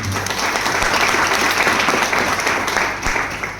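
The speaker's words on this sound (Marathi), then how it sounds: "आले नाही ते दोघांसाठी एकदा जोरदार टाळ्या होत्या" A seminar audience breaks into loud, dense applause that holds steady and close for the whole stretch, with no voices over it.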